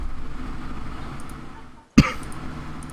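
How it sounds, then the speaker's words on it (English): A single sharp cough bursts out near the two-second mark, loud and close, after a low murmur of background noise. "Need to cough so bad."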